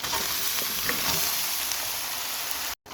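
Three kinds of vegetables fry in a pan for pulao with a steady, close, dense sizzle that runs without pause, then cuts off abruptly just before the end.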